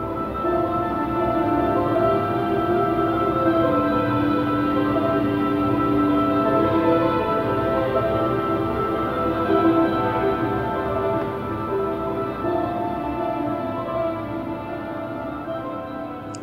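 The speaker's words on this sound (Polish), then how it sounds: "bo środek pawilonu brzmi właśnie tak" Inside a 1968 modernist architecture pavilion on Ściana Wschodnia, a dense, steady, resonant hum of layered sustained tones fills the space evenly throughout, with no voices.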